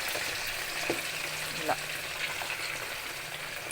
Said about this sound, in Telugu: ఆయిల్ కాగింది ఇలా వేసేసి చికెన్ వేసుకోవాలి ఇలా వేగిన తర్వాత